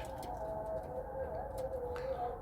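Pigeons coo in a loft, among them Arab takkalı birds, with a low continuous rolling cooing close by and a few faint rustles and clicks in the background.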